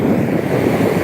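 Sea waves wash continuously against a shore, close and loud with wind buffeting the microphone, a broad steady surf roar with no voices.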